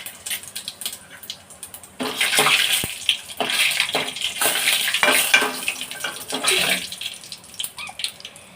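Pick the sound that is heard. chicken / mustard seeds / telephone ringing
mustard seeds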